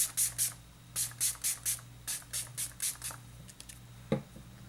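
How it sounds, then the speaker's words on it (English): Gerard Cosmetics Slay All Day setting spray in Dreamsicle misting from a pump bottle in about a dozen quick, close hissing bursts in a steady rhythm, followed by a soft thump near the end. "So we'll set using the Gerard Cosmetics Slay All Day setting spray, and it is Dreamsicle."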